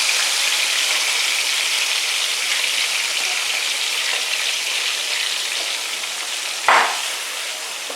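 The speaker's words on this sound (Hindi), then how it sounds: "मैं इसमें चिकन डाल दूँ।" Chicken pieces for achar gosht sizzle steadily in a hot pan, a dense continuous frying hiss that stays even for several seconds, with one brief louder crackle near the end.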